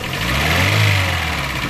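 Vauxhall Astra engine with an ECU fault, held just above idle under light throttle, a steady close mid-low hum that swells slightly in a gentle rev and settles back, with no talking.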